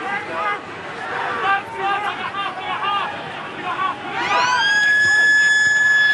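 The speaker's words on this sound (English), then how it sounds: "As the half-time siren sounds." A stadium's half-time siren at a Brumbies versus British & Irish Lions rugby match on the 2013 tour rises over crowd murmur and commentary, then holds a loud, steady wail to the end.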